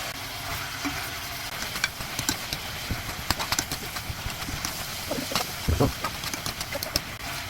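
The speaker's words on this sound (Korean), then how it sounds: "준비해 놓은 미역을 넣어줄게요" Seaweed dropped into meat frying in a pot for Korean seaweed soup, with scattered stirring clatter and a soft sizzle throughout, a few louder knocks of utensil against pot near the end.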